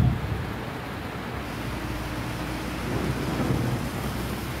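Heavy rain with thunder pours over a darkened city in the Indian state of Assam, a steady loud wash of rainfall with low rolling rumble underneath, no voices.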